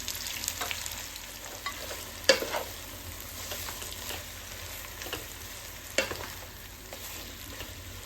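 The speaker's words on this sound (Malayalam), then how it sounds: "സവോള വറുക്കാനുള്ള ഓയിൽ ഒഴിക്കാം" Sliced onions frying in oil for chicken biryani, an even, continuous sizzle with intermittent spoon scrapes and a couple of louder clinks against the pan.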